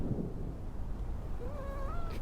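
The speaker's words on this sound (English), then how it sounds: "Well, there's one of the cats now." A house cat in a manor gives a short, rising meow near the end, faint against low background rumble and soft room noise.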